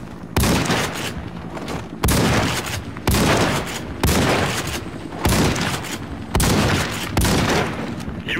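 Gunfire at a shooting range in the video game Warface: seven or eight heavy, booming shots fire at a slow, even rhythm about one second apart, each with a short ringing tail.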